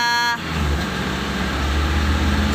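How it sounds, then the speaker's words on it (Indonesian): A Mitsubishi Colt 120 SS engine cranks briefly with a whirring starter, then catches and settles into a loud, steady idle with a low rumbling hum, close by. "kita hidupkan dulu mobilnya"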